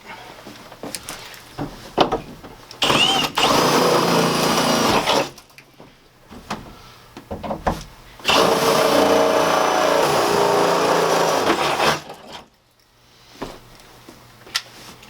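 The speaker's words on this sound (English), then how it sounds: "So we'll go ahead and punch our holes." A power tool punches holes through the framing of an A-frame wall, with two long, loud bursts of grinding mechanical noise separated by short pauses and a few sharp clicks between them.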